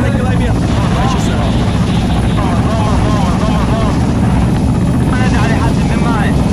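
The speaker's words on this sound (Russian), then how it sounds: "Целься в этот вертолет" A helicopter flies loud and close in a war video game, its rotor roaring steadily throughout while a voice talks over it.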